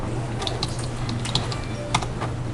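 Soft keyboard typing on a computer keyboard, steady light key clicks with a few sharper taps, heard close over a constant low hum with no talking.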